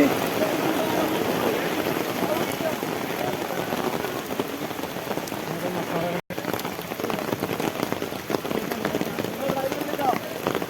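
Heavy rain pours steadily over the DC lake in Tangail where anglers are fishing, a dense, loud, continuous hiss of drops striking water and surfaces with one brief cut partway through.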